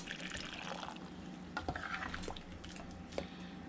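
Hot brine poured into jars of spicy garlic pickled quail eggs, a soft steady liquid pour with light glass and utensil clinks, quiet and close, no talking.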